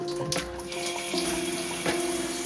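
Water running from a newly installed shower valve into a tub, a steady close splashing flow with faint tonal hiss, no talk.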